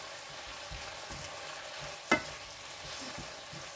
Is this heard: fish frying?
yes